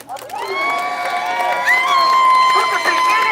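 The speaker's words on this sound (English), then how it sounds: "Give yourself a round of applause." An outdoor crowd at an American Revolution 250th anniversary gathering cheers and whoops, with shrill voices rising and falling over several seconds and scattered clapping underneath.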